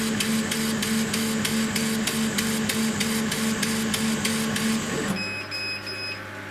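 A laser cutter's head traverses at 100 mm per second, giving a rhythmic, regularly pulsing mechanical buzz with a steady tone underneath that stops abruptly, leaving a lower hum.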